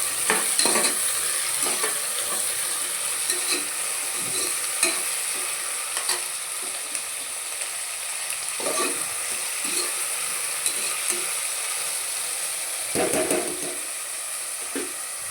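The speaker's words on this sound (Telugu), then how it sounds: "కొంచెం లైట్గా మనం బ్రౌన్ వచ్చేలాగా కొంచెం కలర్ వచ్చే వరకు వేగనిద్దాము ఉల్లిపాయలు" Onions frying in a pan for mutton curry crackle and sizzle steadily for a long stretch, broken by repeated stirring scrapes, with no talking.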